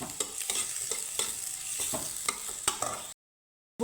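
Onions gently frying in a pan over a low gas flame, a soft steady sizzle with scattered clicks of stirring, close and alone, cutting off abruptly near the end.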